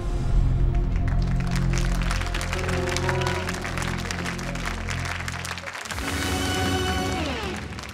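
Sustained applause from a large audience at a televised talent show, loud and dense throughout, with a musical fanfare playing underneath and swelling near the end.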